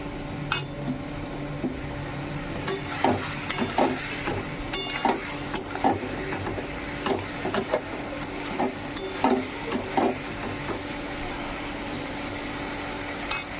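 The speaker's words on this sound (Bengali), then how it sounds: "জল দিয়ে এটাকে কষাবো, মশলাটা পুড়ে না যায়।" Spice paste (masala) fried with a splash of water in a pan for a potato and pointed gourd fish curry, giving a low steady sizzle with repeated scraping and clinking strokes of a spoon against the pan.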